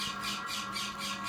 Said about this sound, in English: listening to all the bird sounds